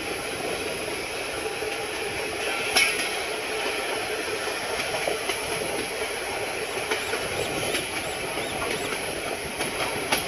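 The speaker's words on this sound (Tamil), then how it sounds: "டீசல் இன்ஜின் தான் இங்கே ஓடிட்டு இருக்குது" A diesel-engine train runs steadily at Madurai railway station, a dense continuous rumble and hiss with faint rhythmic clatter and a few sharp metallic clicks, loud and close throughout.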